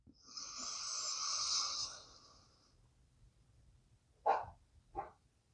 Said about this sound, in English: Block the left side and inhale through the right.